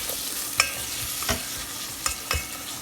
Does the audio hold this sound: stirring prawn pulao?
yes